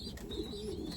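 Racing pigeons in a loft coo softly in low, throaty, overlapping tones, with faint chirps above them in a quiet space.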